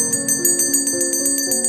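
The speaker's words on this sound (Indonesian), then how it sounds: "dia pun mendengar suara lonceng dari kamar ibunya" A bell rings in a repeated, rhythmic tinkle from a mother's room during a scene of an Indonesian horror film, steady and fairly close, with sustained ringing tones underneath and no talk.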